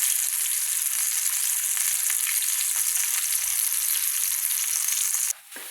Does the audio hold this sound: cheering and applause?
no